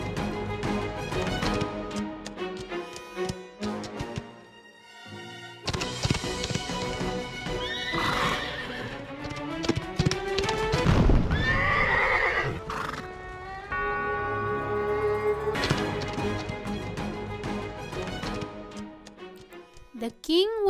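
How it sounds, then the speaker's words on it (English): A horse whinnies and its hooves clip-clop away at speed, mixed with dramatic background music while a narrator speaks. "He quickly got onto his horse and rode away as fast as he could."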